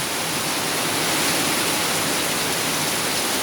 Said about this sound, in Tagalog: napagbigyan ng mga farmers natin na umulan ng ganitong kalakas